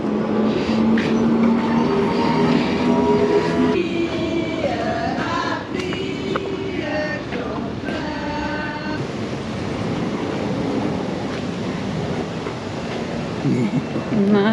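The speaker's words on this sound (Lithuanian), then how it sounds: "Ir važiuoja traukinys." A train rolls past at a steady, loud roar with rattling wheels, metallic squeals and tonal hums, heard from an elevated viewpoint near a harbour on the coast between Cannes and Nice.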